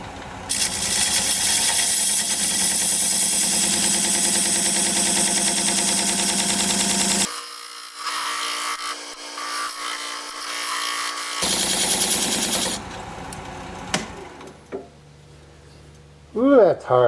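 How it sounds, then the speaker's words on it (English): Wood lathe spinning a vase blank while a diamond point tool squares the sides of a tenon, giving a loud, steady tonal whir with scraping cuts, a brief drop partway through, then the tone winding down with a few knocks at the end. "Now I'm going to use this diamond point tool to square up the sides of the tenon."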